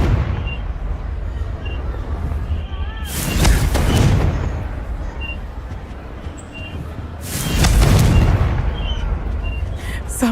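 Fiery blast of the Confringo spell in Hogwarts Legacy, heard as two loud booming bursts about four seconds apart over a steady rumbling game background, with no talking.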